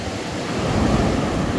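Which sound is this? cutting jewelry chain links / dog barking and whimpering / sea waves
sea waves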